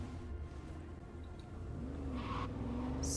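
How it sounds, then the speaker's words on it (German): A car in the video game Cyberpunk 2077 drives with a steady engine drone that swells and revs slightly higher toward the end, continuous and fairly loud with no voices. "Da ist mein Auto."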